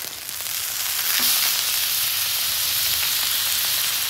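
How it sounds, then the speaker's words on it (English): Steaks sizzling on a griddle outdoors, a loud, continuous hiss and crackle of frying fat holding steady throughout, with no talk over it. "It's time to flip the steaks."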